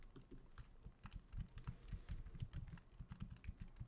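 Arrow keys tapped on a MacBook keyboard in a quick, uneven run of close, crisp clicks, continuing alone with no talk.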